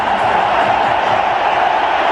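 Dense, steady roar of a large crowd filling a cricket ground during an Indian match, a continuous broadband buzz with no distinct cheers or breaks, loud and even throughout.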